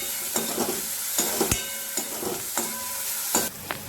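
Dal tadka stirred with salt in a pan, a ladle scraping and tapping in repeated strokes over a continuous sizzle of hot oil, with no voices.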